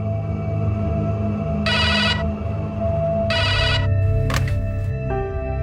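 A telephone rings indoors in two distinct bursts of bright ringing, followed by a brief higher tone, all over a low steady background hum. No one speaks.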